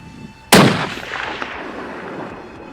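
A single loud rifle shot during an ibex hunt in the Spanish mountains, a sharp crack near the start followed by a long echoing rumble that fades slowly across the open terrain.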